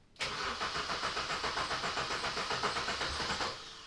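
A 2001 MINI Cooper cranks on the starter with a fast, even chugging rhythm for over three seconds, loud and close, nearly catching but not firing, with no voices.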